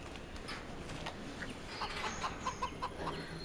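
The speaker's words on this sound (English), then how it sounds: "Very defensive chickens." Chickens on a farm in the video game Farming Simulator 25 cluck in a quick run of short, bright, evenly paced calls over steady background game ambience.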